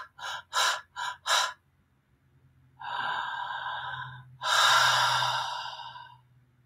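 A person's voice imitates a newborn baby's erratic breathing: four quick, sharp breaths in a row, a pause, then two long, drawn-out breaths, heard close and alone.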